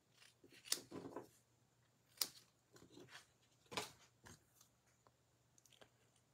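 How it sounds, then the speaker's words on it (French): Scissors snipping a small piece of gold paper for a Christmas card, sharp dry cuts in irregular bursts, close and fairly quiet in a still room. "Je vais le découper."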